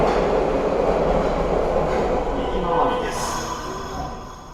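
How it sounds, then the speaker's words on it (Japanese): Nagoya Municipal Subway Meijo Line train running underground after departing Sunadabashi, a steady loud rumble of wheels and motors inside the car, gradually easing toward the end. "砂田橋から乗車したのは市営地下鉄名城線。"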